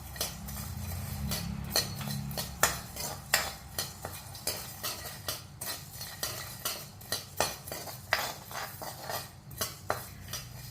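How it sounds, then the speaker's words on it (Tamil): Coriander seeds dry-roasting in a pan for rasam powder, a rapid run of scraping, clinking stirs of a spoon against the metal pan, rhythmic and close, over a faint low rumble. "இப்போ மொதல் மல்லியை போட்டு வறுத்து எடுத்துக்கிறேன்"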